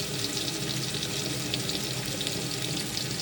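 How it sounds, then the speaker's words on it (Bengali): Meat frying in a pot just after onions go in, with sugar, cardamom and bay leaves nearby; a steady, close, busy hiss and crackle runs evenly throughout, with no talking. "গোস্তটা গরম হয়ে কষানো হয়ে গেছে, পেঁয়াজ দিয়ে দিচ্ছে।"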